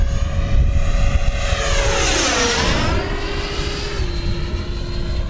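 A Banana Hobby Aerofoam 105mm 12S ducted-fan RC jet passes overhead, its loud whining fan rising then dropping in pitch as it sweeps by at close range over steady rumbling wind noise, with no talk.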